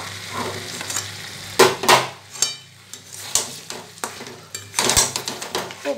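Mutton being stir-fried in a pan for a Bengali curry, with loud, irregular scraping strokes of a spoon against the pan over a steady sizzle and no talking.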